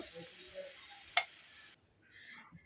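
Water poured into spice paste frying in oil for a katla fish gravy, a sizzle and crackle with a sharp hiss at the moment it hits, then the sizzle drops away to quieter bubbling.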